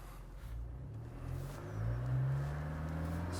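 A Toyota Land Cruiser in low ratio with its diff locked revs as it climbs a sandy slope, a low, fairly quiet engine rumble that swells partway through.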